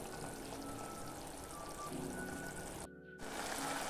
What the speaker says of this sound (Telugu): చింతపండు గుజ్జును యాడ్ చేస్తున్నాను.